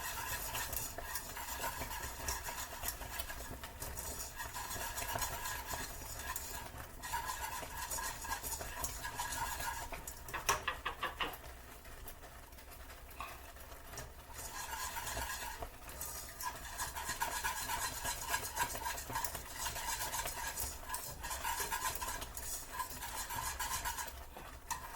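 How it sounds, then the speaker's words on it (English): A no-bake cookie mixture is stirred in a pan with a utensil, giving a continuous scraping and swishing with a soft bubbling sizzle beneath and a brief pause in the middle. "let me stir this so that it doesn't stick on the bottom of the pan"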